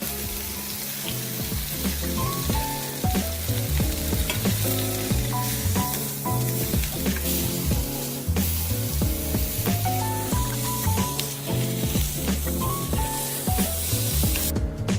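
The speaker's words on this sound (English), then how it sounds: "Load in the tenderloin and just get that nice sear, that nice coloration on the beef." Beef tenderloin sears in hot canola oil with a loud, steady sizzle that hisses throughout, accompanied by a rhythmic musical backing and no talk.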